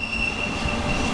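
A Trenitalia train rolls along the tracks near Guardia Mangano in Sicily, a steady close rumble with a thin high squeal from the wheels and no voices.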